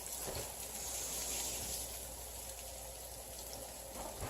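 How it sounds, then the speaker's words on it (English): Running tap water rinses something at a kitchen sink, a faint, steady rushing wash that holds evenly throughout with no voices. "I'm just going to quickly rinse it"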